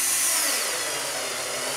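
A RYOBI TEK4 cordless screwdriver on its second speed labours as it drives a screw without pre-drilling, a close, steady motor whine that strains and sags slightly as the load builds, heard alone.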